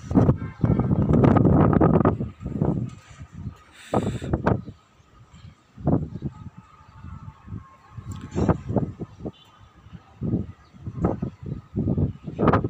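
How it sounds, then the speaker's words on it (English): Strong gusting wind in a Baghdad sandstorm, loud broadband buffeting against the microphone at first, then recurring in shorter bursts and rushes with quieter gaps. "Very windy."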